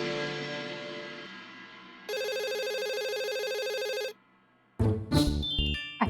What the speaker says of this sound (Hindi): इतनी जल्दी हम फोन नहीं उठाएंगे।